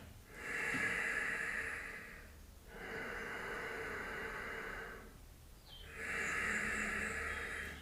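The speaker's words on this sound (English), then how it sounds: "Breathing in and breathing out, making a sound through the nose" Pranayama breathing during a yoga session, three long hissing nasal breaths drawn in and pushed out through constricted airways, each lasting about two seconds with short pauses between, close and clear with no talking.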